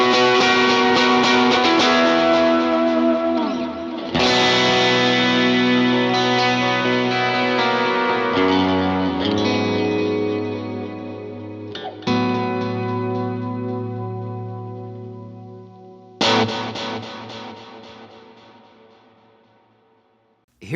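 Electric guitar through the Helix Native amp plug-in, set to match a hardware Helix for worship playing: loud, effected chords struck several times and left to ring and decay with echo between strikes, close and with no talking.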